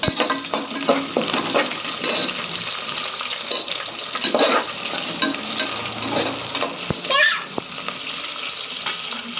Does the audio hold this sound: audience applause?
no